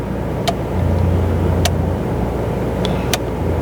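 A Porsche Taycan 4S electric car, stationary and switched into sport mode, gives off a low synthetic hum that swells and holds, with a few faint clicks from inside the cabin.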